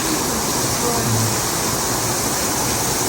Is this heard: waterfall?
yes